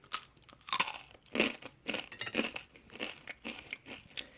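Close, crisp crunching of a raisin almond cracker from an American Airlines snack box, with repeated bites and chewing in an irregular rhythm and no voices.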